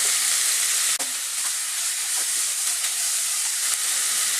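Carrots, green peas, cauliflower, beans, cabbage and capsicum fry in oil for fried rice. The sizzle is a steady, bright hiss with a few soft clicks of a utensil.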